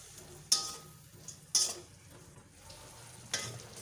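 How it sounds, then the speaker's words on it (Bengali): Spices cook down with a little water in a pan for a vegetarian green banana dish, giving a faint, quiet sizzle broken by three soft scraping stirs, close by with no voices. "এবার সামান্য পরিমাণে একটু জল দিয়ে ভালো করে কষিয়ে নেব।"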